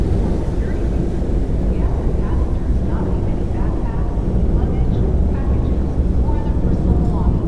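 A ferry rumbles across the water near Port Orchard on a cool, calm day, its low, dense engine drone and wind noise steady and loud throughout.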